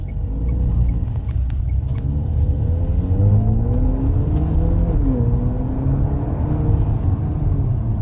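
An Emzoom R-Style car with a 1.5-liter engine accelerates on a highway, heard from inside as a loud steady low rumble with engine pitch rising and shifting through the gears.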